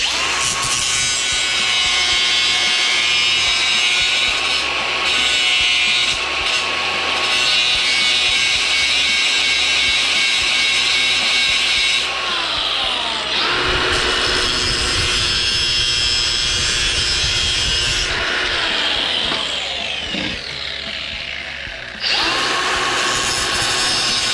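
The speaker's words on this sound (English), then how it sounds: "So we're going to use our grinding wheel, safety glasses," A grinding wheel cuts through a link of a mini bike chain, giving a loud, continuous high-pitched whine and screech that rises and shifts in pitch as the wheel bites, with brief breaks, and no voices.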